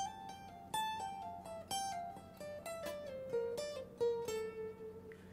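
Electric guitar plays a solo, a fast, quiet descending run of legato notes with hammer-ons and pull-offs high on the neck, close and alone without talking.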